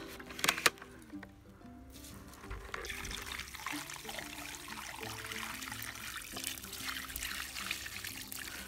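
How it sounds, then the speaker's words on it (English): Water from a rock tumbler holding fire agate, jasper and obsidian is dumped out, first a few knocks, then a steady, close pour and trickle that runs on to the end. "now it's sitting in the water here, so we'll do a dump"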